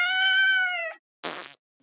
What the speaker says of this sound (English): Who farts?